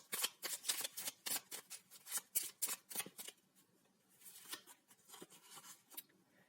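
Tarot-style cards being picked and shuffled for a pick-a-card reading, a rapid run of crisp riffling flicks and slaps that softens into scattered quieter card handling, close up with no talking.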